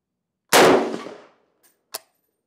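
A single loud Scar Heavy 17 rifle shot cracks sharply and decays over about a second, followed by two faint metallic pings.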